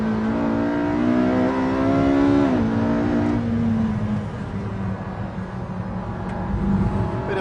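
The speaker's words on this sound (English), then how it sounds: "Boot the throttle on the exit." Car accelerating hard at full throttle out of a corner on a track, a loud close engine note climbing in pitch, dipping briefly at a gear change, then rising again with a rough, raspy roar.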